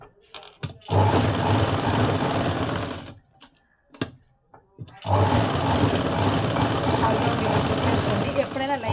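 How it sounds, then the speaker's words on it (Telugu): A sewing machine stitches the front part of a red blouse, running in fast continuous bursts separated by short pauses, close and loud. "పైనుంచి ఒక స్టిచ్ వేసుకుంటాను."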